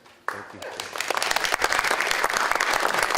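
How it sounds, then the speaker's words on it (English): A burst of audience applause at a parent education talk starts abruptly and builds into steady, dense clapping from a sizable crowd, fairly loud and close. "Applause. Nice."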